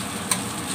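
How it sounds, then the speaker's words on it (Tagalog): Sisig with crumbled salted egg being stirred in a hot sizzling pan, a steady soft hiss with one brief clink of the utensil partway through. "Haluin lang natin ng maigi yan."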